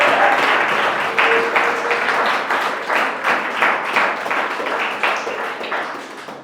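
A church congregation claps together in loud, sustained applause with dense, rhythmic clapping that slowly tapers off.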